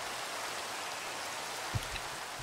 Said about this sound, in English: I love how there's rain in this block, and the block right beside it.